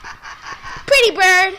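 Zoo birds give harsh, honking calls, a rising squawk then a sustained nasal cry, loud and close after a stretch of softer chatter.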